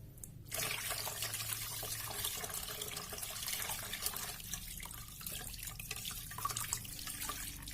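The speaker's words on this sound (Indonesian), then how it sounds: "terakhir nanti kita siram dengan menggunakan air bersih" Clean water poured over mimosa plant roots, a steady trickle and splash that runs continuously and close up, with no talking.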